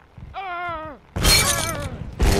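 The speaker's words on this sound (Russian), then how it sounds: "Стеклянный пулемет. Или стеклопулемет," In the video game Happy Wheels, a glass machine gun shatters with a loud, bright crash of breaking glass, followed by a second burst, just after a short yelp-like voice sound.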